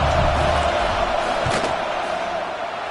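Football stadium crowd roaring steadily before a field goal kick, a dense continuous wall of noise with a brief louder burst near the middle.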